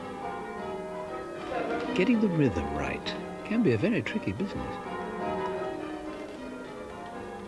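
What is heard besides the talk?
church bells being rung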